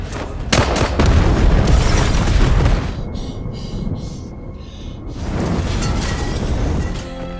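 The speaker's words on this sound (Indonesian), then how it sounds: "Val melemparkan sebuah bom ke arah Stan dan menewaskan seluruh kelompoknya" A thrown bomb detonating in an action film, a loud close blast with a roaring rumble that fades into quieter debris and a high ringing tone, then swells again.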